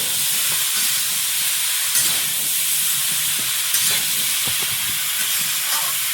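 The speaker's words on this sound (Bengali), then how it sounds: "কচুটাকে এখন একটু ভালো করে ভেজে নেবো" Chola kochu taro pieces frying in a pan with oil, giving a steady, close hiss and sizzle throughout, with occasional soft clinks and stirring scrapes and no voices.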